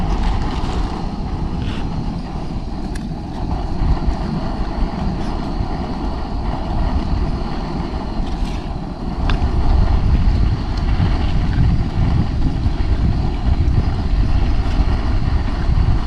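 Outdoors at a backpacking campsite, wind buffets the microphone in a constant low roar that swells louder in the second half, with no voices over it.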